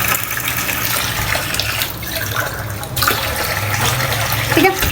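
Water is poured into a pot to be boiled for a homemade hair spray, giving a steady, close splashing and gushing that runs the whole time with no pause.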